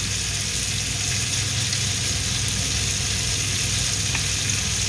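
Potatoes with turmeric powder frying and being stirred in a pan, giving a steady, continuous sizzle close up with no talking.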